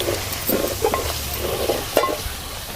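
A spoon stirs turmeric, coriander, mint and curry leaves in a hot pan while they sizzle, with soft scraping strokes and a few sharper metallic knocks against the pan.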